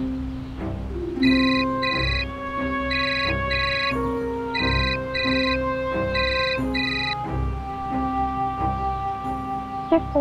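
A ringtone trills in repeated bursts over a steady musical backing, ringing on for several seconds with no one picking up.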